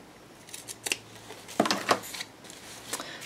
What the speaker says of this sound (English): Trim off the excess here on her little arms.